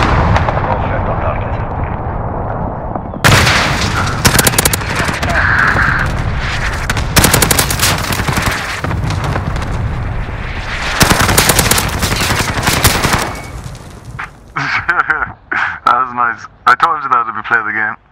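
Heavy automatic gunfire and booming cannon bursts from a chopper gunner killstreak in Call of Duty: Modern Warfare hardpoint multiplayer roar loud and dense for long stretches, with explosions and a player talking over the chaos.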